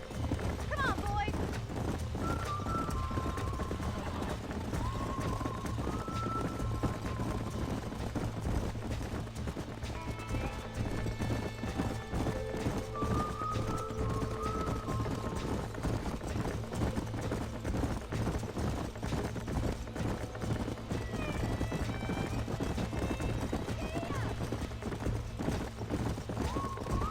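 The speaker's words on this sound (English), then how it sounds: "These are fine horses." Horses clip-clop steadily through a busy Red Dead Redemption game scene, hoofbeats running continuously under music, ambient noise and occasional talk for the whole stretch.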